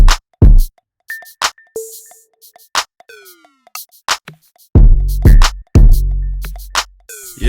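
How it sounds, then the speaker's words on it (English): Sparse drum beat from a music production demo: loud punchy kicks, sharp clicks and hats, and a few tonal pings and sweeps, with irregular hits and gaps, loud and dry with no voices. "As far as the drum, it will, I guess, will sound like this."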